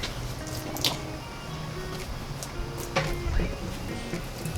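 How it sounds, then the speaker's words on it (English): A straight sweat scraper draws water off a horse's coat, giving wet squishing scrapes and drips in a few irregular strokes, close and moderately loud. "We have a straight one here, and it takes off all the extra water"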